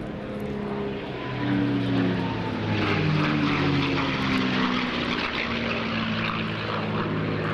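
A P-51D Mustang propeller warplane flies a display in a summer sky, its piston engine droning steadily at a distance and swelling slightly louder as it passes, with no voices.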